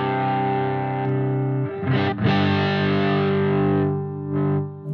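Gibson Les Paul electric guitar with coil-tapped pickups, playing sustained distorted chords through effects, with a couple of brief gaps and re-struck chords, loud and alone with no talking.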